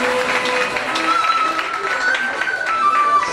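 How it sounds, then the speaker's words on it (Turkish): An audience at a Turkish saz music performance gives a sustained round of applause for a soloist coming on stage. The clapping is dense and steady throughout, with a faint tone and some voices mixed in. "Kocaman alkışlar"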